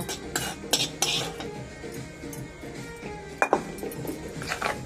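Green chilli and tomato roti chutney with tamarind being mixed by hand, giving soft irregular scraping and clinking strokes with a few sharper knocks, close and moderately quiet, no talking.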